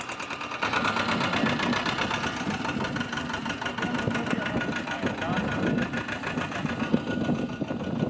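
A tractor engine runs at a steady mid-pitched idle-like chug while hauling a load of jute toward a village home, continuous and fairly close, with some voices underneath.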